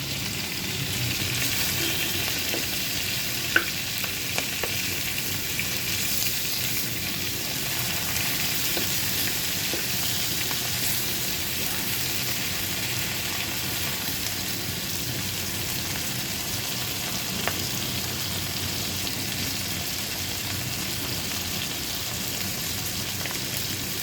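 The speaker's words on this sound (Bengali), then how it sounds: "মাছগুলো আমার ভাজা হয়ে গিয়েছে" Large river prawns fry in a pan with hot oil, a steady close sizzle and crackle running throughout, with a few sharp pops and light stirring clicks and no talking.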